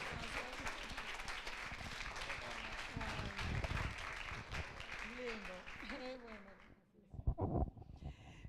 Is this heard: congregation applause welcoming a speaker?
yes